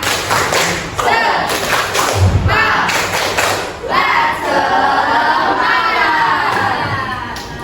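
Classroom of children performing the rhythmic 'tepuk semangat' clapping chant, loud claps and thumps in patterned bursts with the kids shouting and chanting along throughout.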